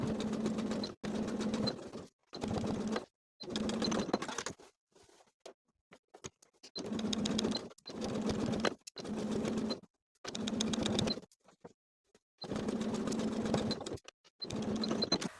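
A sewing machine stitches in the ditch along a shirt placket in repeated bursts of rapid, even mechanical pattering, each run lasting a second or two, separated by short near-silent pauses.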